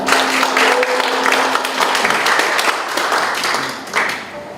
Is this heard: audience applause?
yes